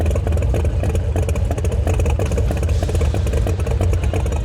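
A supercharged flathead engine in a Model A coupe runs at a steady idle, a loud, close, continuous rumble with a rapid lumpy pulse and a mechanical clatter on top, heard alone.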